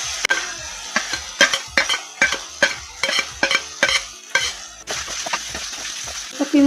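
Onions fry in a pan for a dhaba-style parwal aloo curry, sizzling close by while a spoon stirs in a rough rhythm of repeated scrapes and clatters, with no talking.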